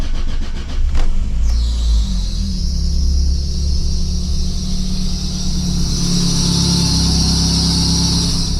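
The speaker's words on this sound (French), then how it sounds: "Petit bruit de courroie" A Volvo 480 Turbo engine cranks and fires, then settles into a rough idle, while a high, steady squeal from a slipping alternator belt rises over the rumble and persists close by.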